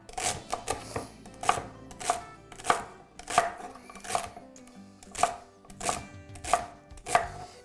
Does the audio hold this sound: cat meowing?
no